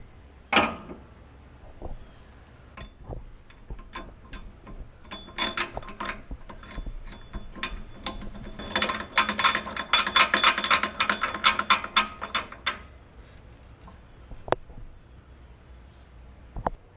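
Close ratchet clicks back a bolt out of a Scion xB coilover spring perch: scattered single clicks, then a fast, dense run of ratcheting for several seconds, tapering into a few sparse ticks.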